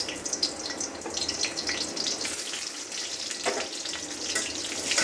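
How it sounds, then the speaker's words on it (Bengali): Chopped onions fry in hot oil in a wok, a bright, dense hiss that stays loud and continuous throughout, with no voices over it. "এখন পেঁয়াজটা ভালোভাবে ভেজে নেব।"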